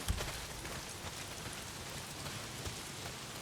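Heavy rain pours down in the video game Days Gone, a dense, even patter of drops on surfaces that holds steady throughout with no voices.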